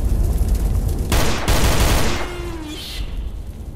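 Enemy gunfire in the GZDoom mod Project Crypt, an action FPS horror game: a loud burst of rapid shots lasting about a second, sitting under ambient game noise with a brief tonal sweep afterward.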